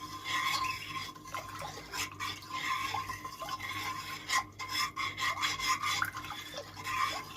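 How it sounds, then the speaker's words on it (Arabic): A spoon scraping and swirling steadily inside a cup of strawberry jelly custard mixture with gelatin, a continuous close rubbing stir with small clinks against the sides. "هنقلب تقليبتين كده"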